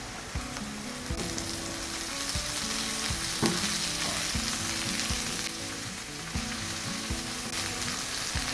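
Onions and chopped curry leaves fry and sizzle in a pan for a masala puttu, a steady close crackle broken by repeated scrapes of stirring, with no talk.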